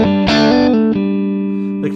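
A short lick on electric guitar: a quick plucked run of notes ringing into a sustained chord tone, clean and close, about two seconds long with no talk.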